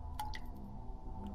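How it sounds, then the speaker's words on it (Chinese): Water drips from roof eaves in a couple of faint, brief drops over a low, quiet background. "可屋檐却始终滴滴答答滴着水，听得人心很烦呢"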